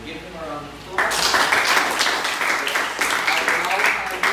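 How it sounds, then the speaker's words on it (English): Classroom applause from students during a team-teaching lesson, clapping bursting in abruptly after a moment of quieter speech and continuing loud and steady to the end. "Give them a round of applause."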